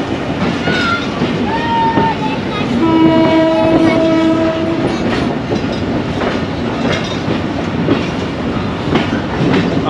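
Karachi Circular Railway local train rolling along with a loud steady rumble and rattle of the carriages, a sustained horn blast sounding through the middle, heard from on board.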